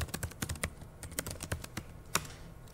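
Quick, close clicking of a computer keyboard as code is typed, with irregular bursts of keystrokes and a few heavier taps, heard without speech.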